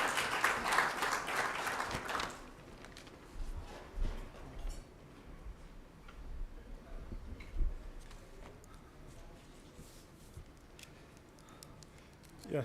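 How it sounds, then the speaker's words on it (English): A room of attendees at a World Malaria Day event applauds loudly and steadily for about two seconds as a presenter comes up. The clapping then stops abruptly, leaving faint room noise and scattered small clicks. "David, a round of applause as David comes"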